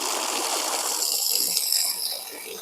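Water gushes steadily from a newly drilled borewell at a construction plot, a loud close hissing rush that runs continuously before easing slightly at the end.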